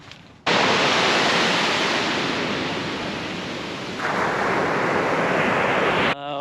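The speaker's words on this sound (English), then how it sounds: "We are in the Jones Beach." Ocean surf at Jones Beach on Long Island in winter, a loud, continuous roar of breaking waves with some wind noise, steady and close from start to end.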